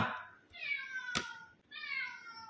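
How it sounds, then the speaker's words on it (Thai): A cat meows in two or three drawn-out calls, fairly close and clear, separated by a short gap with a sharp click between them. "ไอเจ้าแมวตัวป่วนผมมาแล้ว"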